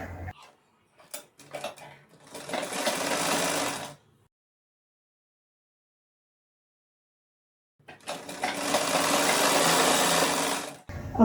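A sewing machine stitches fabric for a rectangular poncho in two bursts of rapid, close whirring, each a couple of seconds long, separated by a silent pause, with faint handling sounds at the start.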